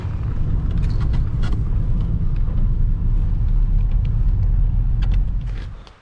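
A warmed-up Ranger utility vehicle drives with a steady, loud low engine rumble and road noise throughout, easing off at the very end.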